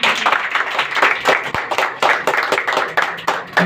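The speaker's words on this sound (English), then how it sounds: "Clap for them." A class in an English practice session claps for two students, with loud, fairly rhythmic group clapping close by that carries on steadily throughout.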